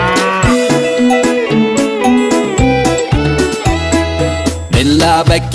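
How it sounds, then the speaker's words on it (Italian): A cow moos repeatedly within a bouncy children's farm song, the lowing sounds set against a busy musical accompaniment. "C'è la mucca, mucca, mu, mu, mucca."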